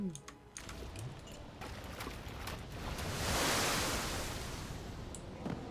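Ocean waves washing in Don't Starve Together, a broad soft surf rush that swells toward the middle and eases off again, with faint clicking sounds scattered over it and no speech.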